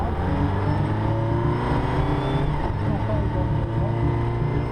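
Jaguar C-X75 supercar driving steadily on a wet track with standing water, its engine a constant loud drone with tyre hiss and no clear revving peaks.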